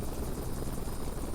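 Helicopter rotor and engine drone in a flight simulator game, a steady dense wash running unbroken and fairly loud with no talk over it.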